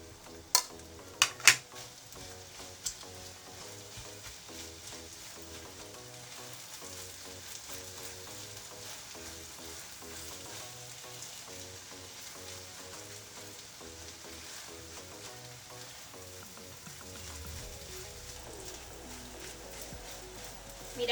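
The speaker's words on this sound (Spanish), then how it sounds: "Voy a echar la panceta y voy a mezclarla bien" Minced meat with pancetta frying in a pan and being stirred, a steady low sizzle with occasional clinks of utensil on the pan, near and continuous.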